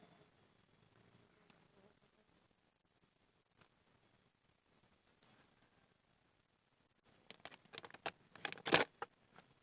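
A honey bee colony in a hive box with a wet interior and a missing queen; a faint buzz runs throughout, then grows into a louder, crackling burst of activity close by near the end.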